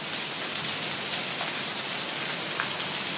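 Steady rain pours down during a hail storm in North Las Vegas, a dense, even wash of drops hitting surfaces close by for the whole stretch, with no voices.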